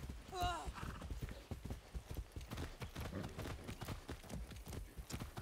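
Horse hooves clip-clop in a steady trotting rhythm while riding in Far Cry 6, close and continuous, with a brief whinny near the start and a person talking over the hoofbeats.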